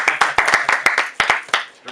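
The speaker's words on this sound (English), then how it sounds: "we gonna clap it up for that." A small group of people clapping in a steady, fairly quick rhythm of about a dozen sharp claps at an underground hip-hop event, loud and close, with a voice briefly heard at the end.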